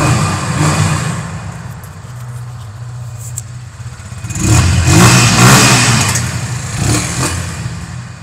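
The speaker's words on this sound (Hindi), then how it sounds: "तो ये है W175 का साउंड।" Kawasaki W175 single-cylinder motorcycle engine idling with a steady low rumble, then revved twice in quick surges that swell louder before settling back, heard up close with no talking.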